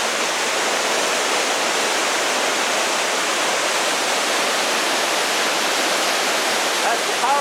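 Waterfall in Johnston Canyon crashing down close by, heard from inside a small cut-out cave as a loud, steady, unbroken roar of rushing water with no pauses.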